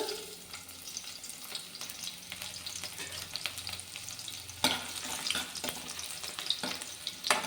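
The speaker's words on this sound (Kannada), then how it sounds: "ಎಣ್ಣೆ ಬಿಸಿಯಾಗಿದೆ ಇದಕ್ಕೆ ಇವಾಗ ನಾನು ಈ ಥರ ಬೆಳ್ಳುಳ್ಳಿನ ಸುಲ್ದಿ ಈ ಥರ ಜಜ್ಜಿ ಇಟ್ಕೊಂಡಿದ್ದೀನಿ ಇದನ್ನು ಹಾಕ್ಕೊಳ್ಳೋಣ" Crushed garlic sizzles in hot oil with a steady crackling hiss, close and fairly quiet, with a few louder pops and clinks of stirring.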